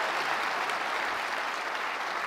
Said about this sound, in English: you can clap for that, by the way.